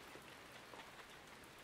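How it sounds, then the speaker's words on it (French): Steady rain pours down in a dense, even hiss with scattered drop patter, continuous and fairly close throughout, no voices. "De la pluie. Quelle plaie."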